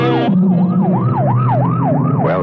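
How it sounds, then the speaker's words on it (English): A police car or ambulance siren wails loudly and steadily in repeated rising-and-falling cycles, alone without any talk. "You know it's a police car or ambulance on the way to or from an emergency in which someone is badly hurt."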